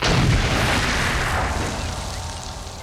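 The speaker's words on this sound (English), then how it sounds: "Controlled explosion ready!" A controlled landmine explosion: a deep, heavy blast rumbles at the start and slowly fades into a long, low roar over a few seconds.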